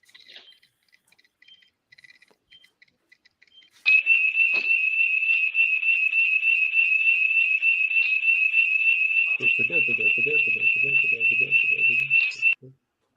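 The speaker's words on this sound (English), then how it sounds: "That was just 2 alarms going off" Two electronic alarms sound together in sync, a steady, piercing high-pitched tone that holds for about nine seconds and then cuts off, with a brief low murmur near the end.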